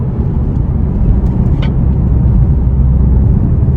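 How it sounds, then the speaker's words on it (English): Steady low rumble of a car's exhaust while driving, loud and continuous with a constant drone and no voices. "The exhaust doesn't sound horrible"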